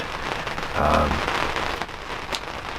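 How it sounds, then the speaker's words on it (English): Steady rain patters on a surface nearby, a dense hiss of drops with a brief louder swell partway through. "it's raining"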